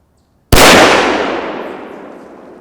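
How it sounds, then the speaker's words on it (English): A single loud rifle shot fired at 100 yards while zeroing, a sharp blast with a long decaying echo trailing away outdoors. "Third shot, 100 yards."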